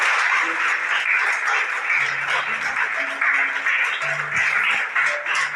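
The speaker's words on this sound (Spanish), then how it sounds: "Dale un fuerte aplauso." A church congregation at an Easter Resurrection service claps loudly and continuously, with faint voices and a few sustained tones running under the applause.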